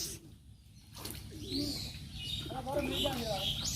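Male dove cooing near water on a fish farm, soft low coos repeating in the later half over steady outdoor background noise, with other birds chirping at higher pitch.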